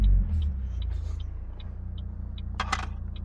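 Chevy Cobalt engine idling steadily after a limp mode fix, a low even rumble close by with a couple of faint clicks and a brief rattle near the end.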